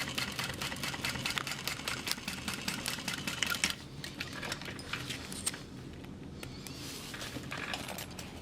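A sewing machine runs in quick repetitive bursts, stitching a second row along a clear vinyl stadium bag; the rapid mechanical ticking is faint and continuous, pausing briefly midway, with no talk.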